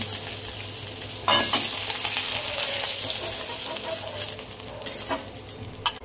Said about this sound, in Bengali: এবার এটা আমি তুলে নেব